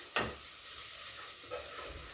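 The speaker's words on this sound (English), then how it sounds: "I'm stirring up very fast." Garlic is stirred quickly in a hot pan for beef pilau: a sharp spoon scrape against the pan, then a soft continuous sizzle with a few fainter stirring scrapes, close and quiet.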